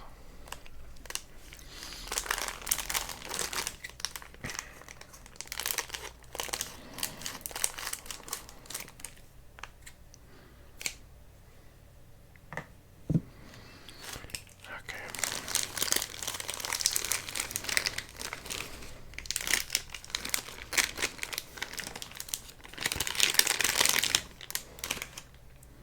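Halloween candy wrappers crinkle and crackle in close, whispery bursts as packages are handled and cut open with scissors, with quieter gaps between bouts of plastic rustling.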